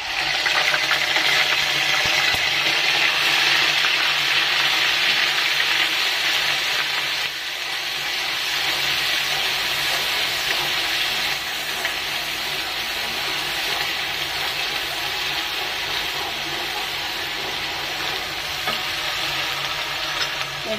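Onion paste sizzles loudly in a hot pan for a Bengali rui fish head and mung dal muri ghonto, with a steady, dense frying hiss and scraping stirs running throughout, near and continuous.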